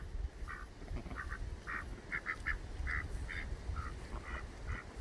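Ducks in a wet free-range poultry area give a steady run of quacks at moderate distance, one call after another over a low background rumble.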